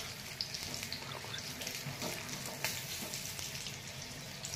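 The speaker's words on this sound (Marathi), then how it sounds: "मंद गॅसवरती तळून घ्यायचे व्यवस्थित।" Food frying in a pan over a low gas flame, giving a steady soft sizzle with faint crackles throughout and no talking.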